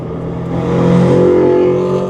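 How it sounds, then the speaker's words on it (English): Maserati engine sounding steady and loud, swelling slightly toward the middle as it revs with a low droning hum. "That way I can appreciate and listen to the sound that this car makes."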